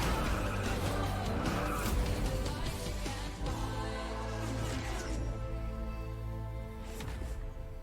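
Cars race in a video game shown at Gamescom 2019, with engines droning loudly and tires skidding and squealing in a dense, continuous mix of motor noise throughout.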